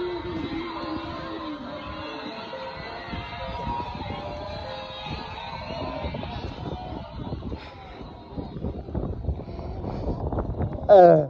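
Steady wind buffeting the microphone with a low rumbling roar throughout, a voice faintly under it, and a sharper gust near the end.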